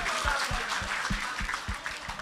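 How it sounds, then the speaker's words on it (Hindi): An audience at a poetry recital claps briefly in a rhythmic, fairly sparse pattern of distinct hand claps, moderately loud and close, lasting about two seconds. "तालियां बजा दीजिए"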